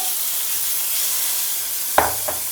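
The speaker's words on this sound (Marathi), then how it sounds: "आणि हा अगदी अगदी बारीक गॅसवरती आपल्याला छानपैकी फ्राय करून घ्यायचा आहे शिजवून घ्यायचा आहे" Food frying in a pan over very low gas gives a steady soft sizzle and hiss, broken by two sharp crackling spits near the end; no one speaks.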